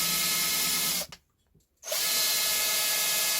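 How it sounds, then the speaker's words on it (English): A power drill countersinks a hole in the back of a timber bench hook, running loud and steady, cutting out for under a second, then spinning up again and holding to the end. "just on the back, just going to pop a countersink in there"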